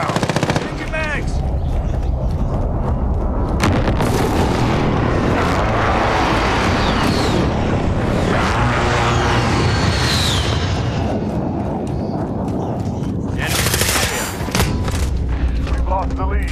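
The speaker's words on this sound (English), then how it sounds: "Enemy precision airstrike inbound." Call of Duty: Modern Warfare gameplay on PC fills the air with dense, continuous rumbling explosions and rapid gunfire during a precision airstrike, loud and chaotic, with game voice announcements mixed in.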